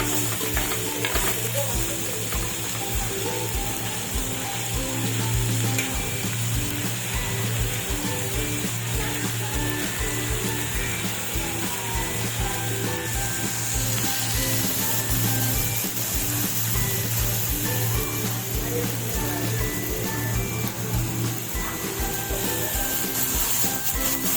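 A large onion sautés in hot oil for a Tamil oil brinjal curry, giving a steady low sizzle with scraping and stirring sounds from a spoon across the pan throughout.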